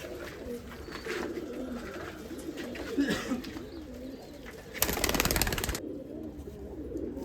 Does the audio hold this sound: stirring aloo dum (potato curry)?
no